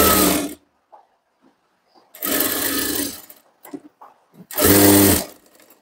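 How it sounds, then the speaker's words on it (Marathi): A sewing machine stitching a katori blouse runs in three loud bursts of rapid whirring, each a second or so long, separated by quiet pauses with faint handling clicks. "ह्या पद्धतीने आपण शिलाई देऊन घेतलेली"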